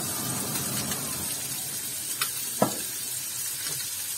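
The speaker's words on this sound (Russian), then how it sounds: "И вот мы немножко обжариваем нашу с вами рыбку" Salmon pieces frying in a pan at home, giving a steady, bright sizzle with a couple of small pops and stirring clicks, close by and alone.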